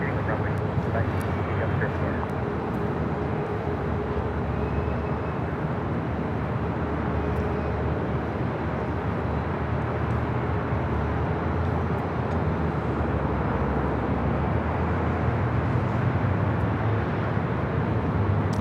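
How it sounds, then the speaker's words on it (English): An Airbus A330 cargo plane at Los Angeles airport, a broad steady jet roar holding throughout at moderate distance, with talk and radio chatter over it. "That is the awesome cargo A330."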